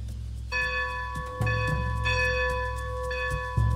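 A steam locomotive's bell clangs in Red Dead Redemption 2, struck repeatedly in a steady ringing pattern that sounds close and fairly loud over a low engine rumble, with no talking.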